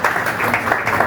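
Brief burst of audience applause welcoming a guest at the Ramayana Conclave in Jhansi, a crowd of hands clapping steadily and fairly loud for about a second, with no one speaking.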